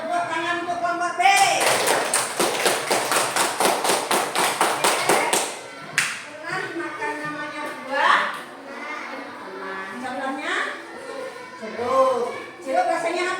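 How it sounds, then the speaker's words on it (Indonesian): Children in a classroom clap for a group, a fast, rhythmic burst of close, sharp hand claps lasting a few seconds, followed by an adult and children talking. "tepuk tangan untuk kelompok B"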